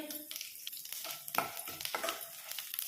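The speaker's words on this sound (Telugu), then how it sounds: "ఇప్పుడు తాలింపు వేయించుకున్నాం కదా" Mustard seeds, cumin, chana dal and dried red chillies crackle and sizzle steadily in hot oil as tempering, with scraping and stirring sounds scattered through the busy frying.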